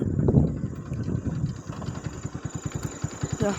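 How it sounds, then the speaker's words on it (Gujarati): A motorbike engine runs close by with a low, rhythmic putter of evenly pulsing beats, steady for several seconds. "બાઈક નો અવાજ"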